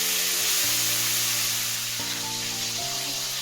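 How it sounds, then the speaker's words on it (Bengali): Cut potato fries in hot oil that was just used for cauliflower, giving a constant bright sizzle from start to finish over a low humming background. "আলুটা দিয়ে ভেজে নেব।"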